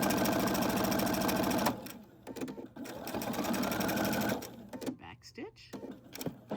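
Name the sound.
sewing machine backstitching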